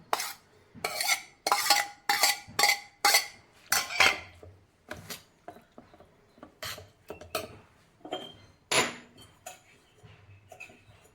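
Spoon stirring cooked ash gourd, green chillies and curry leaves into ground paste and curd for Kerala pachadi, making repeated close scraping and clinking against the bowl that gradually grows softer.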